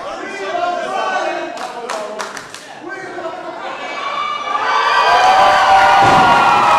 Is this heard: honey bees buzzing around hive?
no